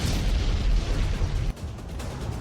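Russian artillery shells exploding in a Ukrainian city, a loud, sustained blast roar that cuts off abruptly partway, followed by a lower, rumbling tail.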